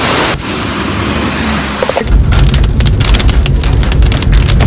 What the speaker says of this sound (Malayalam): നല്ല മഴ പെയ്തിട്ട് ശക്തമായിട്ടുള്ള ഒരു വെള്ളച്ചാട്ടം